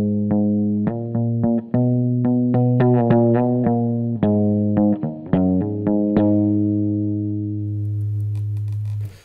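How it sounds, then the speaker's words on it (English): Guitar strings struck near the bridge with a gong beater tipped by a small plastic ball, giving soft but percussive plucked tones: a loose series of ringing hits over a sustained low drone, ending in one long fading note. "It has a little plastic ball on the top of it, which has a very soft but percussive sound."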